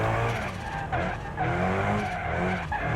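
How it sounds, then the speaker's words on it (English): A race car in the BeamNG.drive video game revs and squeals its tires as it downshifts into a drift, loud engine and skidding tires sweeping up and down continuously. "every time I downshift, it forces the clutch to make the engine go faster"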